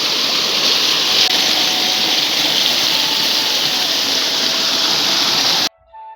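A muddy, rain-swollen mountain gully stream in a hill village rushes loudly and steadily up close, a dense continuous roar of water that cuts off abruptly near the end.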